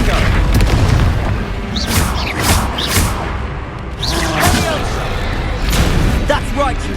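Spells fire in a Hogwarts Legacy battle as Confringo blasts land in repeated heavy booms and whooshing impacts, with game voices calling out over the combat.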